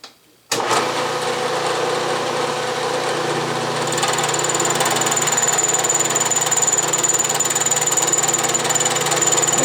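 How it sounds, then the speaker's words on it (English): A milling machine fitted with a two-flute carbide cutter about 1.25 inches wide takes a finishing pass on metal for a steam engine build, giving a loud continuous grinding whir that starts abruptly and holds steady, with a thin high whine emerging midway. "I'm using this 2-cutter carbide cutter."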